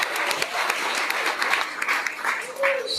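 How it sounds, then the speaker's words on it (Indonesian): An audience at a university general lecture breaks into sustained applause, dense clapping that carries through the whole moment with some crowd noise underneath. "Tepuk tangan."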